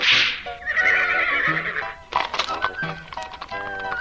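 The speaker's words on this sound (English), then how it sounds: "the Baal Shem Tov told his Gentile driver Alexei to prepare the horses and carriage to travel" Horses pulling a carriage, hooves clip-clopping in a steady rhythm with a whinny near the start, fairly close and loud, alongside other busy sounds.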